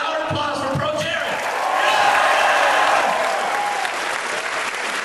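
An audience at a convention panel applauds loudly and continuously, a dense wash of clapping with a few scattered cheers mixed in.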